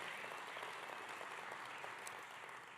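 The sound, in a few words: audience clapping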